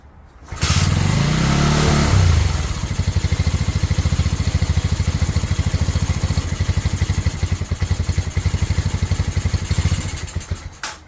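A Pioneer Nevada 125cc motorcycle engine catches after petrol is added to the chamber, a short rev settling into a steady, close idle with a rapid, slightly uneven putter and no talk over it.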